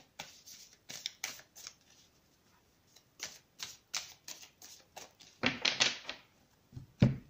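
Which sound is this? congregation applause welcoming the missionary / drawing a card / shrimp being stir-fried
drawing a card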